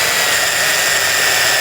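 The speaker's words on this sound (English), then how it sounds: "I drilled pilot holes in the fence boards where I was going to put the nails" Power drill boring pilot holes into wooden fence boards, a steady loud high-pitched whine running continuously before cutting off abruptly at the end, with no voices.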